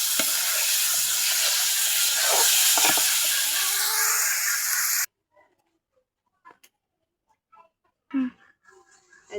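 Pigeon meat frying in a pan, a loud steady sizzle and hiss with a few stirring scrapes for about five seconds, then cutting off to near silence broken by faint clicks and knocks.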